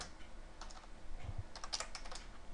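Typing Java code on a computer keyboard: a quiet run of soft, irregular key clicks spread over a few seconds, with a couple of slightly heavier taps, close up and with no talking.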